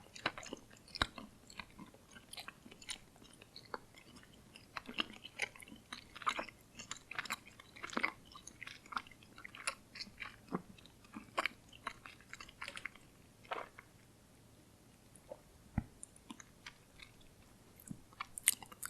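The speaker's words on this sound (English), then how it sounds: "because you have to chew them so hard, they tend to stick to your teeth more" Close, soft chewing of tough Norwegian gummy candy, with steady sticky smacks and crunchy bites repeating irregularly throughout, quiet and intimate with no talking.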